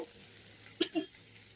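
Potatoes frying in a pan, a steady faint sizzle with a couple of brief stirring scrapes near the middle.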